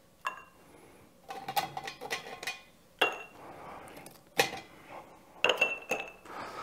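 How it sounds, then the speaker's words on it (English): Ice cubes drop into an old-fashioned cocktail glass made with cream soda, giving several sharp glassy clinks and clatters at irregular intervals in a quiet room. "And then we'll add a few ice cubes to the mix."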